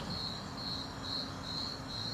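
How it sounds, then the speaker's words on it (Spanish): Male crickets chirp by rubbing their wings in a steady, pulsing trill, a constant high insect chorus with rhythmic swells, moderately distant and fairly quiet. "Los grillos machos frotan sus alas para producir su sonido tan característico."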